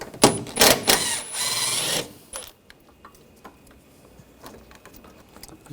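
A ratchet with a 10mm socket works a bolt loose on a Honda CR-V engine bay, a fast loud clicking burst for a couple of seconds followed by a few faint clicks and quiet.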